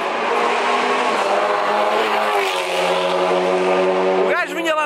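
Kia Picanto GT Cup race cars on the Vila Real street circuit roar past nearby, a sustained loud engine drone that shifts pitch as they go by, with a brief Doppler sweep near the end and a voice speaking over it.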